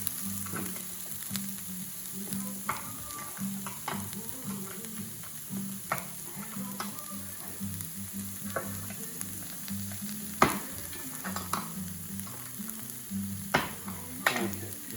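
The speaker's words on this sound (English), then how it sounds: "Just starting to get a bit of colour on those onions now, which is good." Onions, garlic and ginger sizzle steadily in a pan for a rogan josh meatball dish, with scraping stirs and clinks coming through at irregular moments close by.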